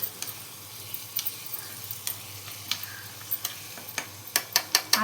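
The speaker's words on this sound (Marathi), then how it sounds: "आता तो मी परतून घेते चांगला।" Cumin, asafoetida and crushed chili-garlic paste frying in hot oil as a tempering, with a steady close sizzle and sharp spatula taps and clicks growing more frequent toward the end.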